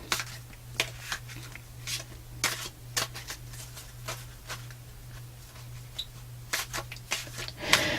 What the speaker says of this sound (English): I apologize for the stickiness of these cards. They're not shuffling as smoothly as the fairies.